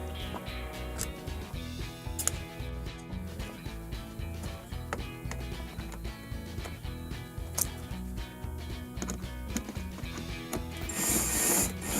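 A screwdriver turning screws into the vent case of a Samsung dishwasher during a repair, a steady ratcheting, clicking mechanical texture heard up close and alone.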